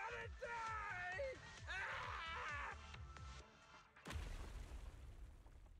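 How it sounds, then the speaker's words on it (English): In the Zenless Zone Zero video game, an explosion makes the surroundings collapse: voices talk over low rumbling before a sudden loud boom bursts out, followed by lingering crumbling noise. "Explosion causes surroundings to collapse."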